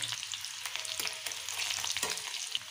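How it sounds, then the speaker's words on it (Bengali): Onion and nigella seeds frying in hot oil in a pan make a steady, close sizzle with a few brief stirring scrapes, alone without voices. "এখন আমি এটার মধ্যে একটু কালোজিরা এড করে দিচ্ছি আর একটু সামান্য পেঁয়াজ ফোড়ন দিয়ে দিচ্ছি"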